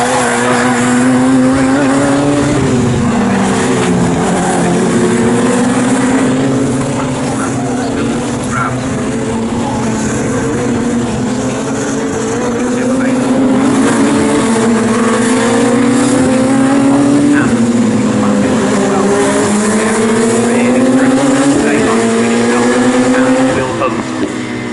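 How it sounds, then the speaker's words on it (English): Radical SR1 race cars at Snetterton racing past the start-finish line, engines droning loud and continuous with shifting, rising and falling pitch, while a race commentator talks over the noise. "Over the start-finish line comes our race leader, Shane Stoney"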